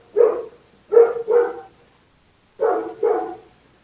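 A small dog barks five times, sharp and close, in a quick group of three and then a pair after a short pause, with no talking around it.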